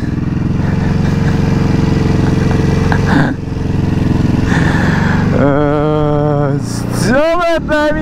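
A 2024 Ducati Hypermotard's engine drones loud and steady on a test ride, then revs rise and fall in sweeping bursts near the end, with no talk over it.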